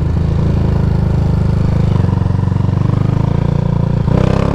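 A Honda Titan 150 motorcycle fitted with a 32 mm XRE 190 throttle body accelerates. The engine pulses loud and close, with a gear change midway and rising revs near the end.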